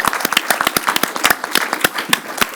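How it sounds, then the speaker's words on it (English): Round of applause from an audience at a film Q&A for the focus puller and camera operator, a loose patter of individual claps rather than a dense roar, close and fairly loud over about three seconds. "we should give the focus puller and the operator a round of applause"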